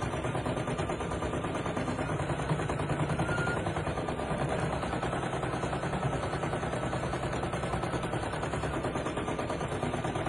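Brother PE800 embroidery machine stitching out underlay stitches, a rapid continuous mechanical chatter of needle strokes, steady and close throughout with no voices.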